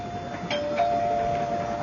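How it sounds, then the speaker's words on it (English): A doorbell chimes twice indoors, a steady electronic tone sounding clearly over a faint background hum. "when the doorbell rang"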